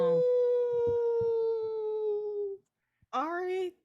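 During a tabletop role-playing game, a long drawn-out howl rises and slowly falls for over two seconds, followed by a shorter wavering howl. It sounds like a voice imitating a wolf, loud and close, with brief talk underneath.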